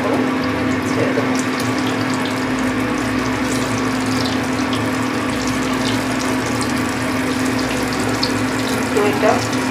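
Chicken dahi bara pieces frying in hot oil in a pan, a steady, dense sizzle that runs unbroken throughout, close and fairly loud, with a low hum beneath.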